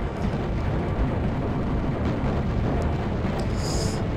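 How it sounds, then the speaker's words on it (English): Mega bomb going off in the shoot-'em-up Raptor: Call of the Shadows, a loud continuous roaring explosion rumble that holds steady throughout. "Second mega bomb."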